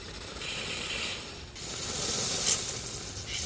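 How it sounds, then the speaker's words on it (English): A steady hissing spray of cleaner through a removed motorcycle fuel injector runs for over a second, pauses briefly, then resumes louder and longer, close by, with faint mechanical rattling underneath. "and then I'm gonna spray it."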